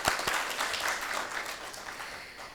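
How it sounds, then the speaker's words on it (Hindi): The audience at a student honours ceremony breaks into a short, loud burst of clapping that tapers off within a couple of seconds. "एक ज़ोरदार तालियां उनके लिए।"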